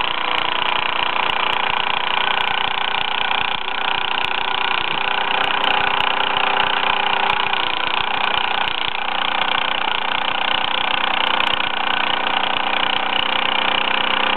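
A small Bowman M175 toy steam engine running in steam, giving a steady, continuous close-up chuffing and mechanical whir with no pauses.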